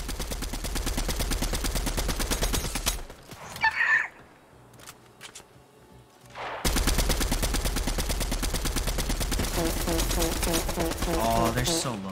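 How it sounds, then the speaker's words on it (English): Heavy gunfire in a big firefight in the video game Fortnite, dense rapid automatic bursts that drop out briefly in the middle before resuming at full loudness. "there's a big fight going down. Everyone's shooting at each other"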